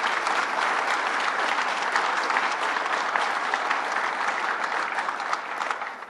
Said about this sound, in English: that deserves a round of applause from all of you